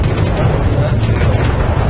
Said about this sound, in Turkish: Vay havai fişek var lan.